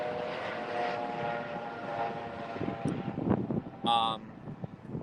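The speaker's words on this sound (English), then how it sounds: "There's the helicopter" A helicopter flies at almost eye level past a Las Vegas hotel terrace at the MGM Skylofts, giving a steady rotor and engine drone over busy outdoor background noise, with a brief louder swell near the end.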